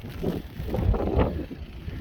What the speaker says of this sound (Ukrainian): Вибачайте вітер дощ